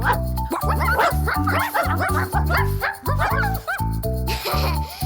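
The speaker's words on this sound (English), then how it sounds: "It's a dog." A cartoon-style dog barks in a quick series of yips and woofs over a bouncy children's nursery-rhyme backing track, the barks repeating steadily and loudly throughout.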